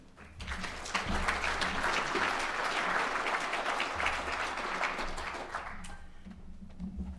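Sustained audience applause fills a hall as a speaker is welcomed at an ATSE fellows showcase, with steady dense clapping throughout that thins slightly near the end.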